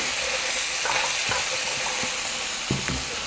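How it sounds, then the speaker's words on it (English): Vegetables frying in a pot for Tuscan bean soup, a steady close sizzle with several scraping, clacking stirs of a utensil against the pot. "let's kind of give these a stir."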